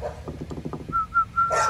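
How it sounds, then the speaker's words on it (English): An American Bully dog gives a quick run of short, yippy barks and whimpers at moderate distance, followed by a brief high-pitched tone and a burst of noise at the end. "Who you barking at?"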